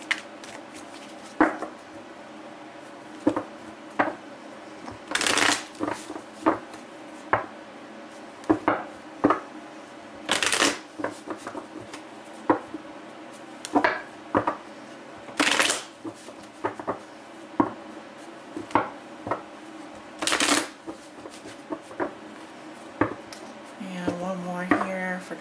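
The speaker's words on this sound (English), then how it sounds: "That was not a good shuffle right there. I don't like when the cards are like that." Tarot cards being shuffled by hand, crisp riffling bursts and soft slaps repeating every few seconds at close range, with small taps and handling noises between them.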